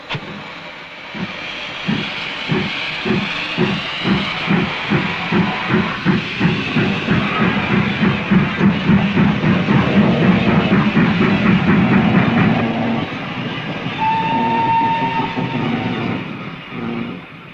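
Loud, rhythmic chuffing of the steam locomotive King George V no. 6000, beats growing quicker as it gets under way, with hissing steam and a brief whistle-like tone near the end.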